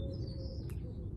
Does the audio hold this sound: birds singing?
yes